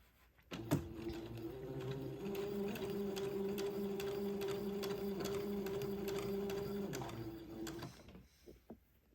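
A sewing machine runs steadily for about seven seconds while stitching long basting stitches on a baby bonnet, a close, continuous motor hum with a fast rhythmic needle clatter, starting and stopping abruptly with a few clicks at the end.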